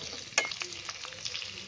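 Onions frying in a pan with ginger garlic paste, a soft continuous sizzle with a sharp clink of a spoon stirring near the start and lighter scraping strokes after.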